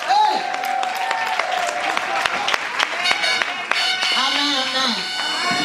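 Church congregation applauding and cheering in worship, steady dense clapping under a loud voice and crowd noise throughout, with music-like sustained tones layered in.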